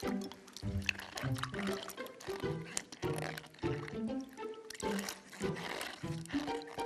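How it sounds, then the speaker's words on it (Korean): Pickled cucumbers are rinsed under water in a kitchen, with splashing and sloshing in irregular bursts as the cucumbers are handled and rubbed, loud and close. "물로 그냥 깨끗이만 한번 씻어 주시면 돼요."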